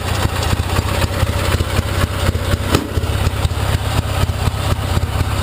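Single-cylinder engine of a Gilson lawn mower running steadily just after starting, a loud, close, continuous rapid chugging with the choke being adjusted, no voices.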